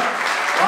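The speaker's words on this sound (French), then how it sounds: "J'ai pas entendu, on les applaudit." A short, loud wash of audience applause at a live comedy show, continuous dense clapping lasting under a second.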